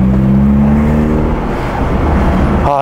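A Mercedes W202 engine drones loudly and steadily from inside the car while driving, a low harmonic hum that holds through the whole moment before a brief higher whine at the end.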